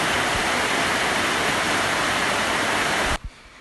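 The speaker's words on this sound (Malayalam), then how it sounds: "മഴ പുറത്ത് നല്ല പോലെ ഉണ്ടായിരുന്നു" Heavy rain pours outside a family home in a dense, loud, continuous roar that cuts off abruptly near the end.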